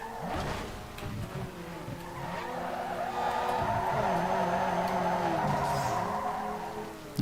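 Car drifting in an early-2000s Need for Speed game, a sustained engine drone with a long continuous tire squeal, loud and steady throughout, no talking.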